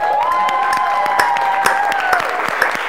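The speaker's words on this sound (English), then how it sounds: "Clap it up." Steady applause from a class of schoolchildren in Africa, dense and continuous with sharp individual claps standing out, plus a faint whistle-like tone running through the clapping.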